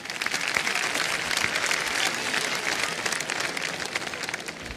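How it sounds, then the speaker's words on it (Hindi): A television quiz-show studio audience breaks into sustained applause, a dense, even wash of clapping that stays loud and steady for several seconds. "तालियां बज जानी चाहिए इसके लिए"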